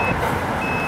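A Dräger breathalyzer emits a steady high-pitched electronic beep while someone blows into it, a single tone running through most of the short moment over breath and background noise.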